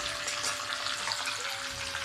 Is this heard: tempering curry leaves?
yes